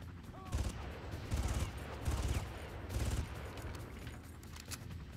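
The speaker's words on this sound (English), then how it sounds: "now back to normal gun" Gunfire from a standard gun in the game Far Cry, several bursts of rapid shots at a fairly even rhythm, loud and close against a busy game background.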